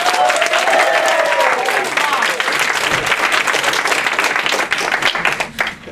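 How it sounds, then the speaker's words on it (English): An audience claps and applauds for a presenter, a loud, dense burst of clapping that runs throughout and thins out toward the end, with some voices mixed in. "Clap it up, please."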